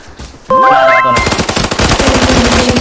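Loud automatic gunfire in Arena Breakout, starting in a sudden burst after a short quiet lead-in and continuing as rapid, close shots with ringing tones.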